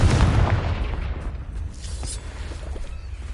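A fire spell explosion in the video game Hogwarts Legacy, heard as a loud booming blast at the start that fades into a rumbling, crackling tail.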